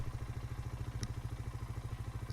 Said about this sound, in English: It has that little rap that 4-wheelers have when they're running